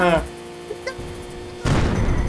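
Machine gun fire in a Thai-played video game, a short loud burst of shots arriving late after a brief boom, with voices talking over the game sounds.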